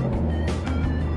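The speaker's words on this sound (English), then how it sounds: "Sorry for the road noise." Steady low rumble of passing road traffic, a constant drone with a couple of louder whooshes of vehicles going by nearby.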